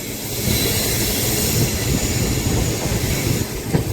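The Chennai–Nizamuddin Duronto superfast express runs at high speed, giving a loud, continuous roar of wheels and rushing air with a faint rail rattle and no voices.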